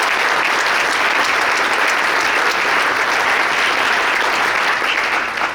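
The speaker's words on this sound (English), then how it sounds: "We need to give Mike a round of applause, but we also give Kevin a round of applause for organizing this conference." Dense, steady applause from a conference audience at an orthopaedic update meeting, thanking the organizers; loud and continuous for several seconds, easing slightly at the very end, with no talk over it.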